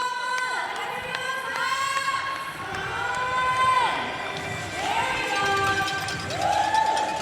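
A basketball arena crowd cheers and shouts over rhythmic clapping while a loud announcer-style voice calls out above the noise.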